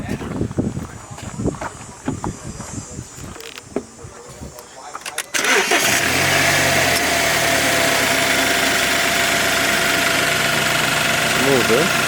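A BMW F30 with a misfiring engine has a starter crank at about five seconds, then the engine catches and settles into a loud, continuous idle with a rough, uneven edge. A person talks before it starts.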